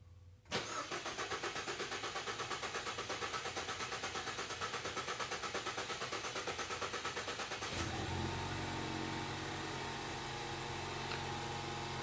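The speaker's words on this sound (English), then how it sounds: "The engine will be cranking in 3 seconds." A Ford car engine cranks with a fast, even chugging of the starter for several seconds, then catches and settles into a steady idle.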